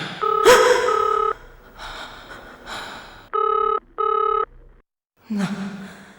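A telephone rings in repeated electronic bursts, several evenly spaced tones sounding close and clear, with a gasp and breathy vocal sounds in between.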